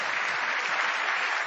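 Steady, dense applause from an audience rewarding a poet's recitation, filling the short stretch evenly and fairly close with no voices above it.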